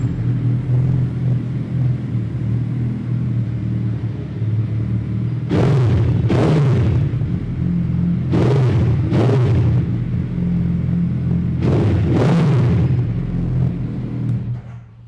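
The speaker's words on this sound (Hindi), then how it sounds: "एक बारी टू ब्रदर्स वाली को भी फायर अप करके इसकी भी आवाज़ सुना देते हैं" A 2022 Hayabusa motorcycle with a Two Brothers exhaust idles indoors with a loud, deep, steady rumble. Three pairs of sharp throttle blips rise above the idle.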